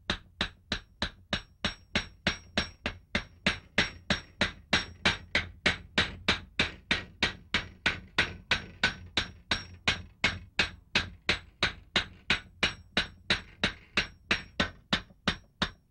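Steady, rhythmic hammer blows on silver sheet metal, about three strikes per second, sharp and close, continuing without pause, as a traditional metalsmith raises the silver plate.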